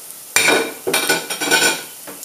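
Falafel patties fry in a pan of hot oil, with close, loud bursts of sizzling and spattering as they are moved and turned, separated by short quieter gaps.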